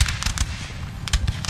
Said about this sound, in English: Cannons blasting them.